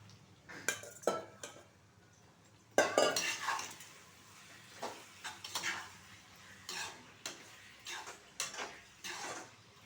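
Goat liver is stirred in a pan with a spoon: irregular scraping and clinking strokes over a faint sizzle, close and fairly quiet, with no speech.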